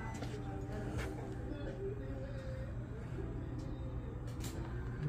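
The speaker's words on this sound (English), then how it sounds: "That sounds like a beefy motor." A Pan America motorcycle engine runs steadily at idle after starting up, a continuous low rumble close by with faint talking over it.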